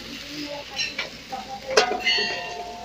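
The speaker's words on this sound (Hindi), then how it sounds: "ये देखिए अब हम मसालों को इसमें अच्छी तरह से भूनेंगे थोड़ी देर" Spices fry with potatoes and pointed gourd in a pan, a soft sizzle under intermittent scraping and clinks of a spoon against the pan, close and fairly quiet.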